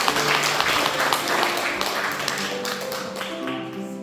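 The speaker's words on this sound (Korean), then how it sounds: "큰 박수로 환영합니다." A Korean church congregation claps to welcome newly ordained members at an installation service, the clapping mixed with a sustained organ or keyboard tone and some faint background voices.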